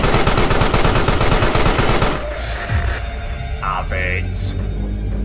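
Rapid automatic gunfire rattles loudly in Carrion, set in a nuclear power plant, for about two seconds and then cuts off, leaving quieter game sounds with occasional chimes.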